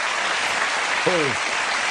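Broadband clapping rolls on steadily as a dense, continuous patter, with a short vocal exclamation cutting through midway.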